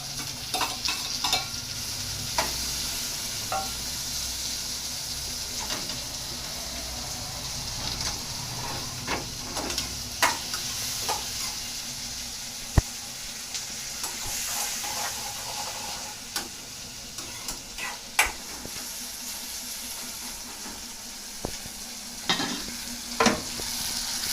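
Chillies and onions cook in a pan with a continuous, close sizzle of frying, broken by scattered clicks and taps of stirring, and nobody speaks.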